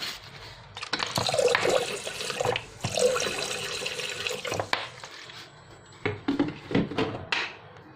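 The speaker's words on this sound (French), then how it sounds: "je vais mettre de l'eau et un peu de vinaigre blanc" Water and a splash of white vinegar are poured into a bread machine pan, heard as close, gurgling splashing bursts that start and stop several times, with brief clatters between pours.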